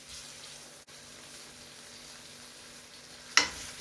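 Sausages frying in a pan give off a constant, close, soft sizzle, broken by a sharp utensil clink and a brief surge of spitting near the end.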